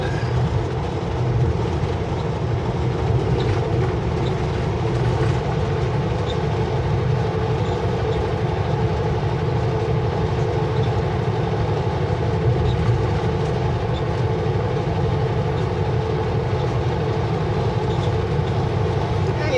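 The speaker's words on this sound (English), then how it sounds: "There's a train." A long Canadian National freight train of mixed cars rumbles steadily past at close range, a constant heavy roll with faint rattling of the cars throughout.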